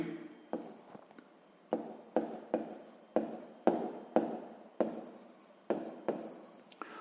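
Pen scratching out a math answer by hand on paper, a run of short strokes arriving in quick irregular bursts, close and fairly quiet, with no voice over them.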